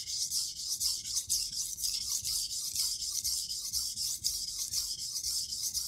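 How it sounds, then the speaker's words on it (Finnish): A knife is sharpened on a Naniwa 400 grit diamond whetstone, giving steady rhythmic rasping strokes, close and fairly loud, with an even repeating back-and-forth pattern and no voices. "otetaan 400 kivi nyt tästä timanttisarjasta käyttöön ja katsotaan, minkälainen ääni lähtee"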